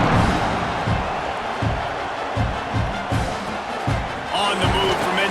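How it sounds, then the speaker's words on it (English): Stadium crowd in EA Sports College Football 26 buzzing after a score: a steady, dense roar with rhythmic low thumps pulsing through it, loud throughout. "this crowd is buzzing after that last score"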